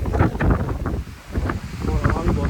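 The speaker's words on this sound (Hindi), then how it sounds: "देखो आप कितनी तेज हवा चल रही है।" Strong wind blows ahead of rain under darkening clouds, a loud, gusty rumble buffeting the microphone that dips briefly midway before surging back.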